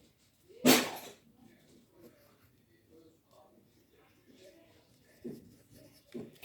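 A pen draws on a sheet of paper being made into a paper plane. One loud scratchy stroke is followed by a few softer, scattered scribbles and faint handling noises, close to the microphone.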